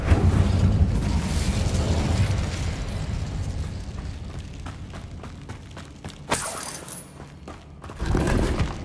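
Incendio fire spell cast in Hogwarts Legacy: a roaring, crackling whoosh of magical fire that is loudest at the start and fades, with a sharp burst later and another flare of sound near the end.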